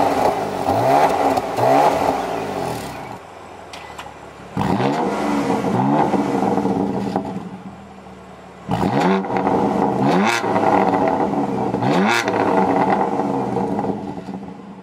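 A 2020 BMW M4 CS coupe fires up and revs repeatedly, loud close-range bursts of rising and falling engine pitch separated by short idling lulls.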